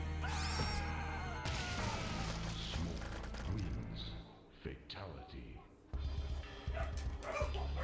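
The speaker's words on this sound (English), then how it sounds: "hence why dogs are barking everywhere" Dogs bark repeatedly outdoors in the distance, several yips and bow-wows scattered over game sounds and a person talking throughout.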